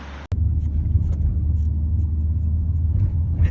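A 2020 Renault Clio 1.3 TCe petrol automatic on a road drive, its steady low engine and road rumble continuous and fairly loud after a brief click near the start, with no talking.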